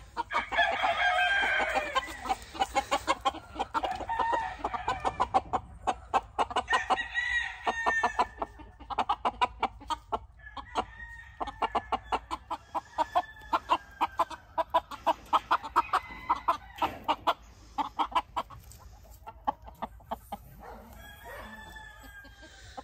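Chickens cluck in a dense flurry while a gamefowl rooster crows now and then, steady barnyard chatter filling the whole stretch with no talking.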